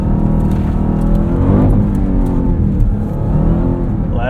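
Close, loud engine roar from a 710 hp 2026 Dodge Durango SRT Hellcat Jailbreak AWD sliding through snow at a rally school, with a continuous supercharger whine riding over the revving as the pitch sweeps up and down.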